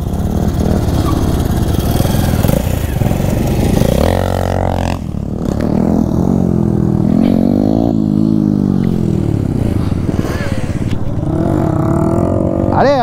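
A KTM motorcycle engine revs loudly and steadily during wheelie practice, with rising and falling throttle sweeps and some clatter, under near-continuous talking.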